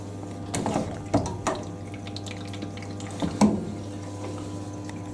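A Hoover A3060 Electronic 1100 washing machine fills with water: a steady low mechanical hum runs beneath trickling, splashing water, with a few louder gurgling surges. Nobody speaks.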